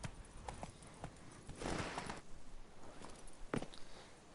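Horse hooves clip-clop at a trot in The Witcher 3 video game, an uneven run of hoof strikes over a rustling, windy ambience, fairly close and moderately loud.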